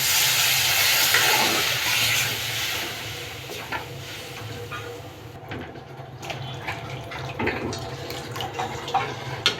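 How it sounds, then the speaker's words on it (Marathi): Water gushes and splashes into a pot of stir-fried cabbage, carrot and spring onion for Manchow soup, loud at first and then settling into softer bubbling, with a few clinks toward the end. "आता यात आपण पाणी घालणार आहोत"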